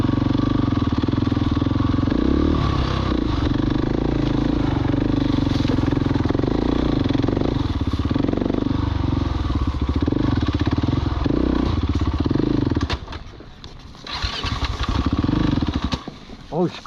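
Motorcycle engine running on a mountain pass ride: a loud, steady throbbing engine drone with rattles and clatter, briefly dipping near the end, while a rider talks over it.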